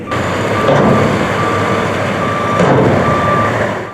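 Heavy trucks hauling cleared snow rumble loudly nearby while a reversing alarm beeps at a steady pulse throughout, with no voices.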